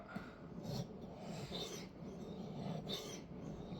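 A small EDC pocketknife sharpened on a whetstone, both sides worked in turn, gives repeated close rasping strokes in a steady back-and-forth rhythm.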